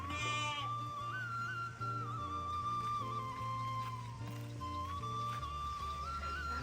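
Goats bleat in a village goat pen, wavering calls repeating over a steady, layered background drone with no voices.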